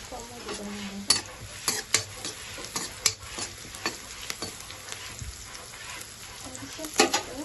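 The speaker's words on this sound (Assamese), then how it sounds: "পিঁয়াজখিনি ফ্ৰাই হৈ গৈছে ধুনীয়াকৈ।" Sliced onions with turmeric fry in a pan for an Assamese fish curry with rosella leaves, a soft steady sizzle broken by scraping stirs and occasional clinks of a spoon against the pan, close by and without talk.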